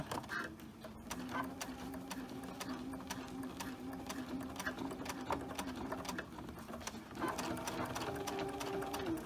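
A sewing machine stitches a small drawstring bag, running in a steady continuous whir with a short back stitch, close and alone with no talk.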